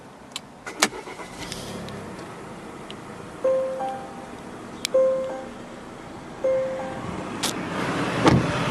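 A 2018 Volvo V90 T6 Inscription AWD starting up from the cabin: a few sharp clicks and soft repeated chimes, then a rising engine swell near the end, all fairly close.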